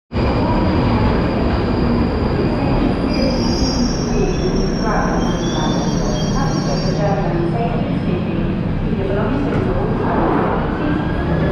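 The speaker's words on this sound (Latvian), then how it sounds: "Gaidām, ka pienāks vilciens uz Waterloo un tālāk uz tiltu." A train pulls into Charing Cross station in London, its wheels squealing loudly and steadily against the rails over a constant rumble, with faint voices mixed into the noise.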